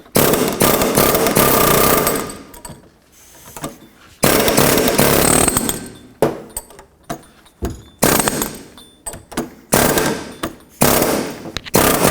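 Loud bursts of rapid air hammer chiselling, peening the metal edges of a control arm bushing on a 2004-2008 Acura TL, chattering for a couple of seconds at a time, separated by short pauses and brief quieter taps.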